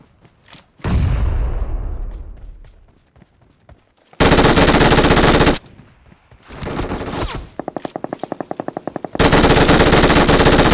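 Machine gun fire from a video game crackles in loud sustained bursts, with a rapid rattling stutter between them and a long echoing boom tailing off after the first burst, no voices over it.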